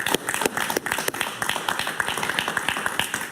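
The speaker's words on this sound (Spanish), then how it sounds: "Un gran aplauso para Willy Kochev, por favor." A television talk-show studio audience gives a dense burst of applause, many quick overlapping claps forming a loud, even roar that keeps going throughout with no voices on top.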